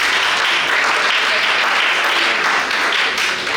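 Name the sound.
audience applause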